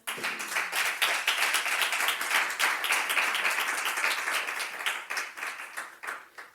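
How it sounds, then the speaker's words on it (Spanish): A church congregation claps for the King in dense, lively applause, many hands at once, holding steady for several seconds before thinning out near the end. "Dale un aplauso al Rey."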